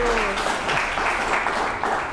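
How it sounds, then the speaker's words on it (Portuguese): Lively church congregation applause, a thick, continuous roar of clapping hands at close range, lasting steadily through the whole stretch. "aquelas palmas bem avivadas"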